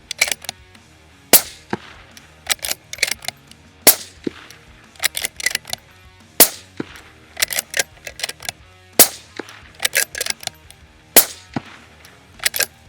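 A 6mm Dasher competition rifle firing 87 grain VLD loads, a string of loud, sharp individual cracks spaced irregularly at close range, each shot ringing briefly before quiet.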